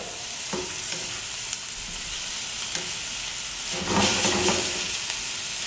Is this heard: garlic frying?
yes